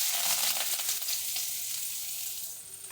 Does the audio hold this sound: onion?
yes